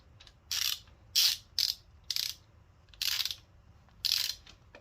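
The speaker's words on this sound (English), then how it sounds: "First, you want to run both of the bolts all the way down before you start torquing." Ratchet ratcheting down engine bolts on a rebuilt 1.8L turbo Mazda Miata engine: six short bursts of rapid clicking, close and clear, each burst separated by a brief pause, with no talking.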